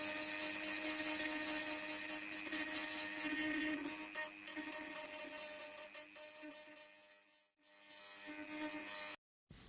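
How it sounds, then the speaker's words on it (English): A Dremel rotary tool grinds the fiberglass corners of an engine cowl, a high buzzing whine that wavers with load, fades briefly near the end, then cuts off. "we've just cleaned up with a Dremel each of the corners"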